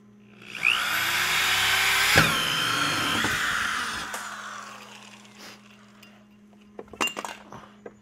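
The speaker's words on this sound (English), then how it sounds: "So I'm going to drill two holes" A power drill bores two inch-and-a-half holes in a plastic tote lid used for bee syrup mixing, a whining grind lasting about three seconds that fades out, followed by a few clinks and clatters.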